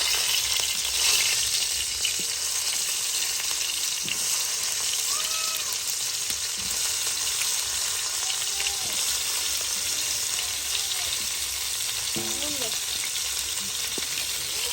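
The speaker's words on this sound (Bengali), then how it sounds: "এবার কিন্তু ব্রকলিগুলোকে ভেজে নেবো।" Broccoli fries in a pan with a steady, dense sizzle that runs the whole time, close and fairly loud, with a few faint clinks and stirring scrapes and no talk over it.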